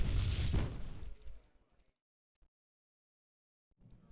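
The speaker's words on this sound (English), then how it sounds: "There will be mortar shot again." Mortar shot explosion in a tank battle video game, one loud booming burst that decays over about a second into near silence, followed by faint rumble.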